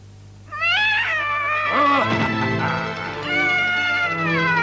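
A neighbor's cat in an animated series gives several loud, drawn-out meows close by, each rising and falling in pitch and running almost back to back, with no talking.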